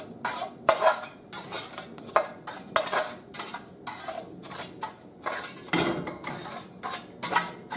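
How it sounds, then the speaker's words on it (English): Lentils toasting in a hot skillet for a Lebanese dish, with repeated scraping and clinking of a utensil against the pan as they are stirred and occasional small pops, close and without speech. "I can hear popping once in a while. That means they are toasting."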